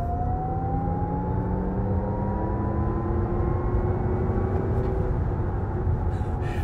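A 2023 Lexus RZ 450e electric car accelerates hard, its motor whine rising steadily in pitch over a constant rush of road and wind noise.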